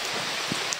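Rain falls in a steady, dense hiss, with a few louder individual drops and no voices, during a short stretch outdoors.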